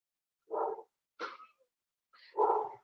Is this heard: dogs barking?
yes